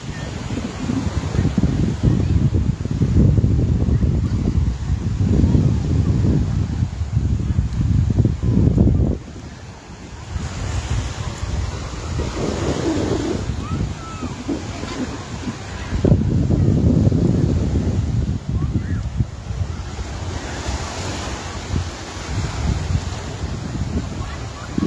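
Outdoor ambience at the Quehueche river near Livingston, Izabal, Guatemala: a steady, fairly loud wash of water and wind rustle, swelling and easing in broad surges, with no voices.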